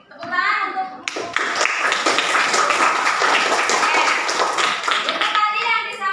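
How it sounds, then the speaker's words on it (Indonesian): A group claps together for about four seconds of steady, dense applause after a presentation, with young voices speaking just before and after. "Tepuk tangan untuk."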